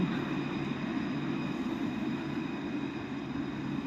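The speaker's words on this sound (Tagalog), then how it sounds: "Ayun, ang tren. Dumaan na." A steady, rumbling train roar fills the scene, constant and fairly close, with a broad low hum and no breaks.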